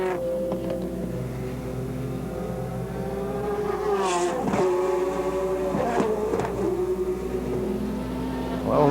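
Race car engines drone and rev along the Curitiba track in a 1996 race, one pitching up and past while others whine steadily, with commentary heard over the noise.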